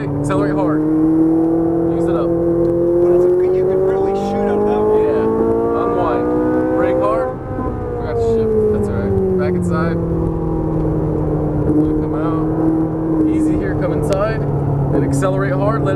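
A Ferrari 458 Italia on a race track in Vegas accelerates hard, its engine note climbing steadily with a brief dip mid-run as it shifts, loud and close throughout, while a driver talks over it.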